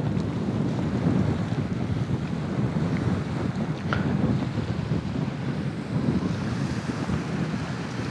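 Black Sea waves wash on the shore at a beach in Anapa, Russia, under heavy, steady wind noise buffeting the microphone.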